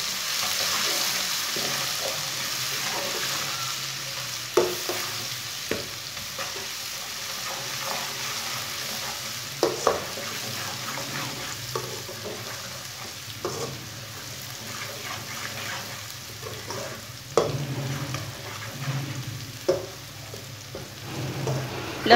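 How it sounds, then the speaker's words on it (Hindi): Finely crushed garlic frying with browned onions in a pan for a dhaba-style chana dal palak, a steady low sizzle with occasional stirring clicks and scrapes. "लहसुन को भी 1 मिनट तक भून लेंगे।"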